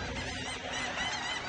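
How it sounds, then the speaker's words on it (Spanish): Seagulls call on a cloudy, foggy Monday morning, a steady squawking chorus mixed with broad, wind-like background noise throughout. "Tiene todas las pinches gaviotas."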